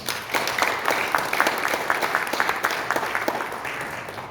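A church assembly audience applauds to welcome pastor Lee Jong-cheol as a candidate, with a moderately loud, continuous patter of many hands and individual claps standing out throughout.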